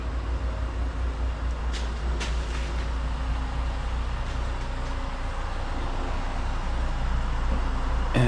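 A 1972 Chevy Chevelle Super Sport idles through a 3-inch exhaust with Flowmaster race mufflers, a deep steady rumble close by with a few faint clicks and knocks over it.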